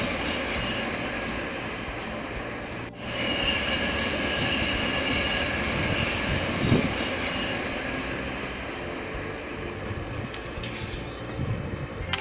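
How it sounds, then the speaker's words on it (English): A train rumbles across the Ouse Valley Viaduct overhead, a steady roar and rattle heard from below that holds for the whole stretch without speech. "The train is running on top of us right now."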